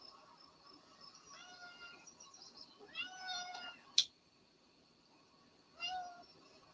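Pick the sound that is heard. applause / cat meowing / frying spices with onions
cat meowing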